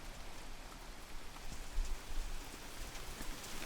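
Rain falls steadily on a surface, a dense soft patter of drops with slight swells in intensity, faint and continuous with no voices.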